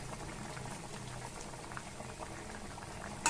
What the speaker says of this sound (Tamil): இப்போ சாம்பார் நல்லா கொதிக்குது